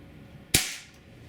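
A single sharp crack from an HK P30 4.5mm (.177) CO2 pellet pistol fired in single-action mode, close and loud, with a short decaying tail and no talk.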